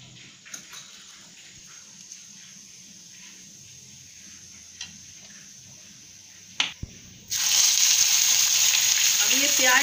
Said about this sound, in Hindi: तड़का दे रहे हैं।